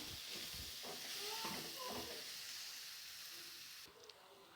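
Steady frying sizzle and hiss from chili powder sautéing in a pan for drumstick kulambu, with a voice talking over it for the first couple of seconds.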